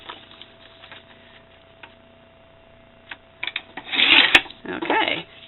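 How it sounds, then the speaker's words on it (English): A paper cutter slices off the end of a plastic bag with a sharp, close rasping burst of cutting, preceded by faint handling rustles. "now I'm going to trim off the very end of the bag so that it will open and I can stuff it"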